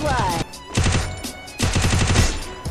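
Rapid gunfire bursts from the Garena Free Fire video game, two loud close volleys of shots separated by a short pause, with game sounds layered through them.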